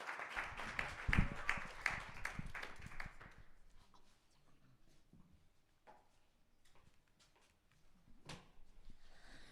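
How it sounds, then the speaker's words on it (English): Audience clapping for presenters at a culture lab final pitching session, loud and dense for the first few seconds, then thinning to scattered claps and faint room noise. "So please support with your clapping hands."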